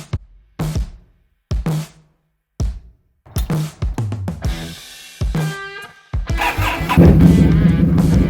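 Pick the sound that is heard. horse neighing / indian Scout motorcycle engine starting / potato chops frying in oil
indian Scout motorcycle engine starting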